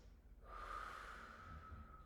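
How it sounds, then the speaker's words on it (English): Two quick nasal sniffs followed by a long, steady exhale during a guided breathing exercise, soft and close with no talking. "Now take 2 sniffs and a long exhale."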